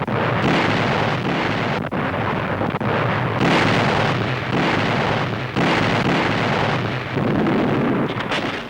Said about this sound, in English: In the darkness before dawn, the Navy's big guns open fire.